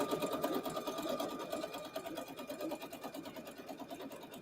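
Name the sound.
sewing machine stitching quilt blocks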